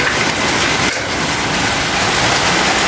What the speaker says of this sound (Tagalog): Impaw ng ulan.